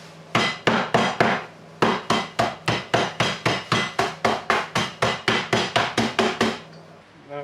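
A hammer pounding cheesecake ingredients in a home kitchen, about twenty sharp, heavy thuds in a quick steady rhythm after a short opening run, loud and close with no talk.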